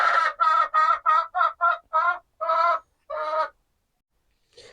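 A hen clucks in a quick run of about nine short, throaty calls, then one more call after a brief pause; close by and fairly loud.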